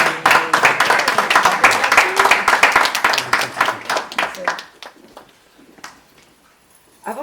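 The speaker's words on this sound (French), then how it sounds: "Je pense que vous pouvez les applaudir." Guests applaud at a civil wedding ceremony just after the couple are declared married, a lively burst of hand clapping that fades out midway, leaving near silence with a faint sound at the end.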